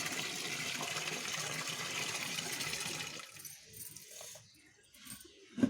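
Water pours and splashes steadily over a dog being bathed for a few seconds, then stops, leaving quiet with a few faint drips and a small clatter at the end.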